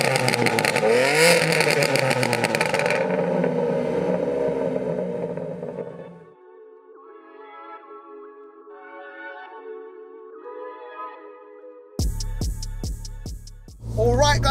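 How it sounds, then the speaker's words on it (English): A loud, broadband roar from a stage 2 tuned 700 bhp BMW G80 M3 engine for several seconds, fading into quieter tonal sound, then sharp rhythmic bursts like revs and pops near the end. "the revving, I actually think, sounds very nice"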